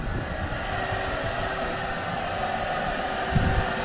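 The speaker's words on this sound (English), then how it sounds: "the vacuum's working" A vacuum pulls a vinyl liner into place in an ICF concrete pool, a steady loud blowing roar that runs unbroken and close by with no talking.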